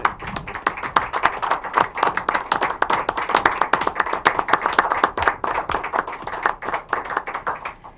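At a county board of commissioners meeting, an audience gives a World War II veteran a standing ovation, with dense, sustained clapping of many hands that stays loud and even throughout.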